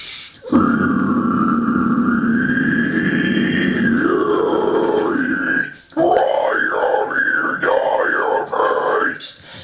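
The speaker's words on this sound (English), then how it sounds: "I'll do my whole guttural range for you all." Guttural metal screaming vocals, a sustained low growling scream that slides in pitch and then breaks into several rapid, choppy bursts, loud and close, one voice alone.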